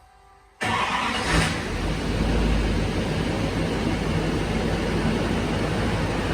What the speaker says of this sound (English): Once it finally sends that fuel up to the engine, it will fire up.